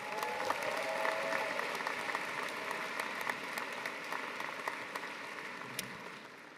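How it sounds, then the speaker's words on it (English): Audience applause at a university graduation ceremony for the Faculty of Environment and Faculty of Health, a steady dense clapping from a large crowd that holds evenly throughout and tapers slightly at the end. "Let's have another round of applause for your valedictorian."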